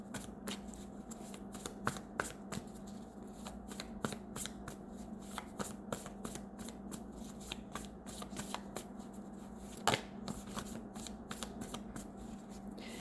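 Tarot cards being shuffled by hand, a quick, quiet run of crisp riffles and flicks that repeats steadily from start to finish, close up, with one sharper card snap partway through.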